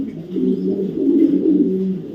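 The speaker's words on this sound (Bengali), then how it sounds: "অরিজিনাল সুপার বিলি রেস করা কবুতর" Racing pigeons from a club stock coo in a low, steady, throaty rumble, close and continuous with no talk.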